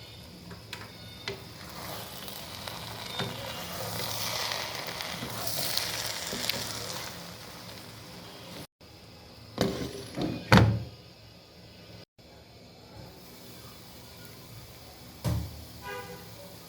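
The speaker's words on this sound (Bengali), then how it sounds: "এখন আমি এটা হালকা হাতে নেড়ে 5 মিনিটের জন্য আবারও দমে রাখছি" Vegetable khichuri of rice and vegetables sizzles steadily in a pot while being gently stirred, followed by a few close, loud clanks and thunks as the lid goes on, then a quieter simmer.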